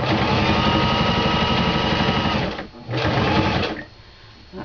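A sewing machine zigzag stitches a Christmas stocking closed, running in a fast steady whir close up, briefly stopping, running again, then easing to a halt.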